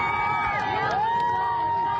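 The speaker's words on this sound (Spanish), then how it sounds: "muchos ciudadanos en la frontera aplaudían la caravana con los rehenes a bordo" Crowd at a border crossing cheers and shouts as a convoy carrying hostages passes, a dense, continuous roar of voices with whistles and whoops rising over it, heard from within the throng.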